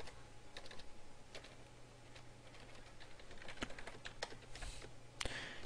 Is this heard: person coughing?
no